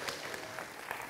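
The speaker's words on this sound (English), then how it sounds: "Round of applause. Nicely done." Brief, faint round of applause from a conference audience, a soft scattered patter of clapping heard at a distance for about a second.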